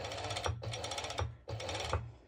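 A sewing machine stitching fabric for a crop top, close rapid mechanical chattering in three short runs with brief pauses between, no voices.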